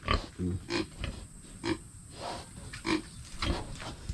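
A pregnant sow grunts repeatedly at close range in short, regular snorts from her pen, with faint background rustling.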